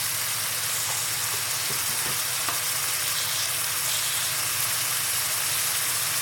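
Chopped tomatoes with salt and red chilli frying in a pan, a loud, dense, continuous sizzle heard up close, with a few faint stirring taps and no voices.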